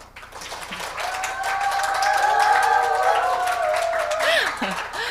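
Company staff in red shirts applaud and cheer at an award ceremony, a loud, steady wash of clapping and cheering from a large crowd, with voices whooping over it.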